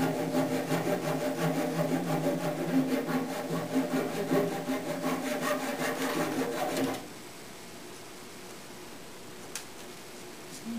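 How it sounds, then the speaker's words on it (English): A hand saw cuts away waste wood from a fireplace mantel workpiece, giving steady, close, repetitive rasping strokes for about seven seconds before stopping, leaving quiet room tone with one faint tap. "The first step will be to use a hand saw, to cut away most of the waste"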